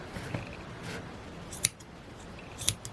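Scissors trim crocheted thistle yarn with two sharp snips close by, one near the middle and a second toward the end, under a quiet room hush.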